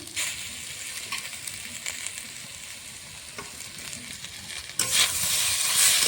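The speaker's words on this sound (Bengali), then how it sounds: "আদা লঙ্কাটা দিয়ে কষিয়ে নেবো" Steady sizzling and stirring of ginger and green chili paste frying in a pan, a continuous crackle that grows louder and brighter near the end, with no talking.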